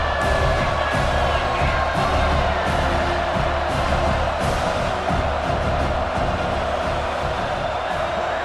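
A packed stadium crowd at a college football game in EA Sports College Football 26 roars and cheers continuously, a loud, dense wall of shouting and whooping with faint commentary mixed underneath.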